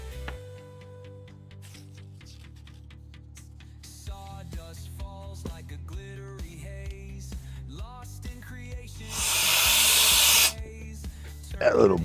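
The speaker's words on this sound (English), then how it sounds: "That little blower is strong, y'all" A small blower kicks on for a loud, rushing hiss of air lasting just over a second, after a stretch of background music and talk.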